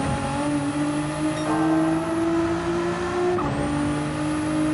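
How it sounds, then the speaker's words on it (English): A race car engine in a sim racing game holds steady at full throttle, a loud, continuous drone that dips in pitch at a gear change and then climbs again. No one speaks over it. "Back in the throttle, full throttle."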